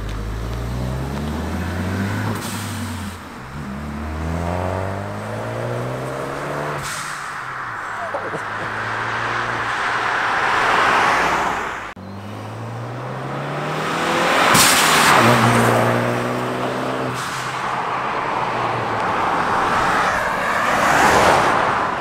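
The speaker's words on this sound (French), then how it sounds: "L'exhaust il sonne tellement bien, puis c'est stock." A stock-exhaust Ford Focus ST revving hard with a green aftermarket air filter on the intake, engine notes sweeping up and dropping back in repeated pulls, loud and close, with voices heard over parts of it.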